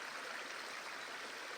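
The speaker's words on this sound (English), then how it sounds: "The movement of the wind in the leaves and the gurgling creek sinking together." A gurgling creek with wind moving through leaves makes a steady, dense wash of flowing water that stays even and close throughout, with no voices.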